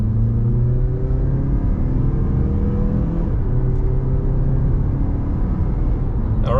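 A Mazda CX-50 Select accelerates up a gradual hill, its engine revving steadily higher with a rising whir before the first shift, over continuous road rumble from inside the cabin.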